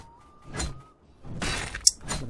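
Silver hammers striking a silver ore node in the video game Savage Lands, several separate sharp metallic, shattering impacts with brief ringing tails, spaced apart and close, with no talk.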